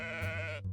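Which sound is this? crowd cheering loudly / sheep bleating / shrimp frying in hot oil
sheep bleating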